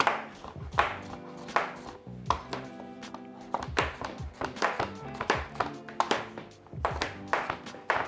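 A knife slicing a courgette into chunky half moons on a chopping board: brisk, fairly quick knocks of the blade against the board in an uneven rhythm, close and clear with no talking.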